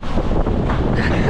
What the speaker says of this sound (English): It's definitely windier than yesterday.